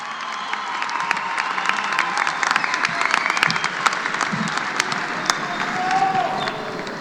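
Sustained applause from a large graduation ceremony audience at a high school, steady dense clapping throughout with some cheering mixed in, filling the hall for several seconds.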